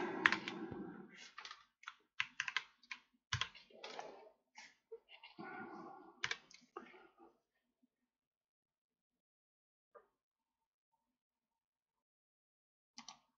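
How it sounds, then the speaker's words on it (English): Bursts of clicking keystrokes on a computer keyboard during electronics programming work, dense and close for about seven seconds, then a few isolated taps after a long pause. "Still getting used to this daft keyboard."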